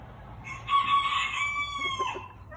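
Bantam White Crested Chocolate Polish chickens in a pen, one cock crowing a single high, strained call over low background clucking and farmyard hum.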